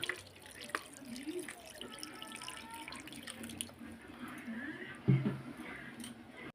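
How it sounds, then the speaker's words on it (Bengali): Water is poured into a cooking pot of browned potatoes and mutton for a kosha curry, making a soft, faint splashing trickle under kitchen background noise, with a brief louder clatter near the end. "আমি পরিমাণ মতো জল দিয়ে দেব"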